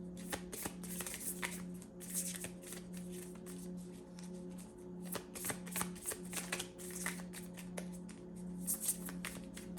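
Tarot cards being shuffled by hand, giving a quiet, repeated riffling and flapping in irregular bursts against a low background hum.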